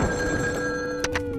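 A telephone rings with a steady electronic bell tone in a Bengali cartoon, sounding continuously and fairly loud, with no talk over it.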